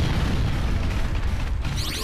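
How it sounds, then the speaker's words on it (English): A loud, continuous explosion roar from the Kamen Rider Super Climax Heroes fighting game, dense booming rumble sustained throughout with a crackling tail near the end. "Explosion."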